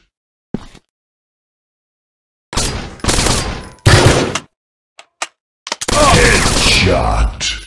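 Bursts of rapid gunfire from a mobile animal-hunting shooter game, arriving in short separated volleys with a long sustained burst at the end, loud and close, with brief silent gaps between.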